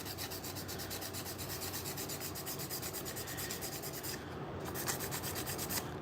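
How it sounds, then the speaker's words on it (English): Continuous, fairly quiet rubbing and rasping as parts of a Penn 8500 spinning reel are sanded by hand, with steady back-and-forth strokes and no talking. "This is pretty much the last of my sanding I'm going to be doing."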